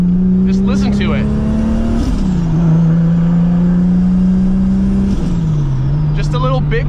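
A 300ZX with a 2JZGTE engine swap being driven to work, a loud, steady engine hum with two brief dips in pitch as it shifts, close up, with short bits of talk at the start and end.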